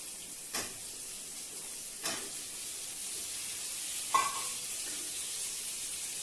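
Drumsticks and tomatoes sautéing for sambar give a soft, steady sizzle, broken by a few isolated knocks of a spoon or pot, with no talking.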